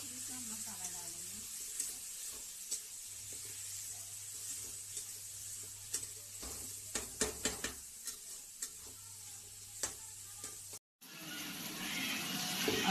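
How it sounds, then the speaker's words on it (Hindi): Tomato, garlic and ginger frying in a pan for an egg and potato curry: a steady close sizzle with intermittent scraping stirs and clicks, then a brief break and a louder hiss of frying. "अब मैं डालूंगी इसमें टमाटर और लहसुन अदरक है, इसको डाल के अब इसको अच्छे से भूनूंगी"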